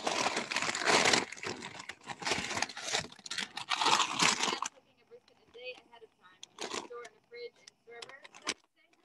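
A cooked brisket being unwrapped, with loud crinkling and tearing of wrapping for several seconds, then quieter rustles and handling noises with a voice speaking in between.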